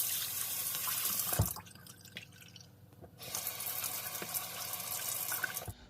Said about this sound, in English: So now I've cleaned this just using soap water